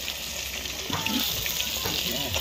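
Belly pieces of a big fish from a small village pond fry in a pan, giving a steady close sizzling hiss with occasional crackles while someone talks over it.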